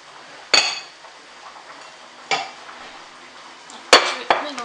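Spoon scrapes and clinks against a bowl while rice salad with corn is stirred, four sharp metallic knocks spaced unevenly over a quiet background.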